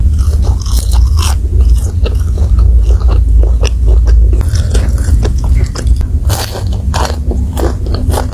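Cimol tapioca snack bitten and chewed up close, a loud continuous run of crunchy, crackling bites and wet chewing with no talking.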